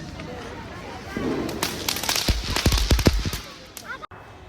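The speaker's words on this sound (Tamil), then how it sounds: "ஆர்னவ் வந்து வெடி வச்சு வச்சு தான் பார்க்கான்" Diwali firecrackers burst at a new home in Maharashtra, a rapid crackling string of sharp pops and bangs following a fizzing fuse, close and loud, with people talking around them.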